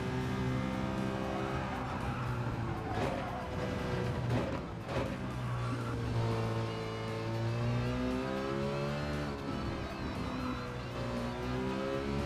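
A car drifts in Gran Turismo 7 with loud, sustained tire squeal that wavers in pitch, layered over a revving engine that rises and falls, with no talking.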